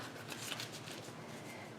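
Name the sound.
shuffling oracle cards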